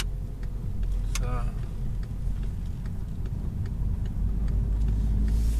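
A twin-charged Volkswagen Golf with a paddle-shift gearbox pulls away from home, its engine a low, steady rumble nearby that swells toward the end.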